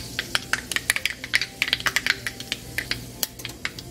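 Mustard seeds and fenugreek crackle in hot oil for a Kerala fish curry, a quick irregular burst of sharp pops and sputters close by over a low steady hiss, no voices.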